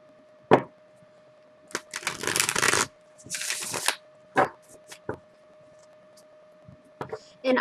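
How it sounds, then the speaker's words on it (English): Tarot cards being shuffled by hand at close range, with several bursts of riffling and crisp snaps separated by short pauses and scattered sharp taps. "when I'm shuffling for my tarot readings"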